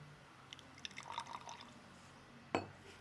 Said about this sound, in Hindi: इसमें हम 10 ml पानी डालेंगे जिसमें मैंने कलर ऐड किया हुआ है